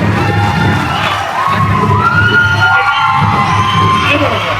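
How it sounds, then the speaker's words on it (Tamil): A loud outdoor crowd cheers and shouts to welcome a minister at a Tamil commemorative event, a dense roar of voices with yells and whoops, close and continuous. "அனைவரின் பலத்த கைத்தட்டலுடன் வரவேற்கிறோம்."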